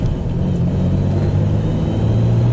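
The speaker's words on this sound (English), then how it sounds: "This shift's real smooth" A 1993 Chevy S10 pickup with a 2.8L engine and nearly 210,000 miles hums steadily at mid revs through a smooth gear shift, a close, even drone with a low whir and no talk.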